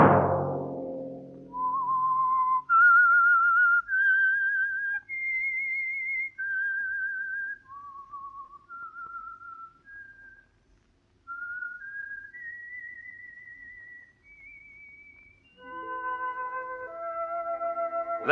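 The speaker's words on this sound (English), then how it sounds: "Let that whistle be your signal for the Signal Oil program, The Whistler" A lone whistler carries the theme tune of The Whistler, a 1947 radio program: a slow, clear melody of held notes with short breaths between phrases, and a few soft orchestral tones enter near the end.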